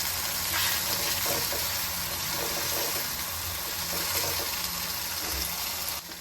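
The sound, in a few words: taro root (arbi) frying with spices in a pan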